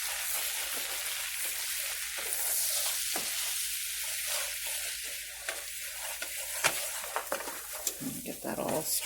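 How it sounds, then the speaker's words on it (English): Sausage sizzles and fries in a pan while black pepper is stirred in, a steady hiss broken by scraping stirs and a few soft knocks against the pan, close up. "Get that all stirred together."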